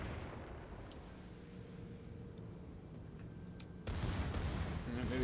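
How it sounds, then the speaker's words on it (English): Secondary guns on a battleship in World of Warships open up suddenly with a loud burst of booming reports and rolling rumble, breaking out of a steady low engine and sea drone. "The battleship started opening up with his secondaries."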